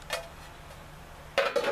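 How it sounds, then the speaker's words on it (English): A metal lid going onto a pot of water being canned: a light clink early on, then a louder clatter of metal on metal as it settles into place. "Let's get the lid on."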